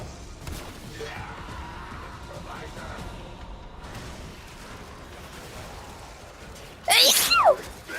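A single sharp sneeze bursts out near the end, loud and close, after a stretch of quiet game ambience with soft whooshes and thuds.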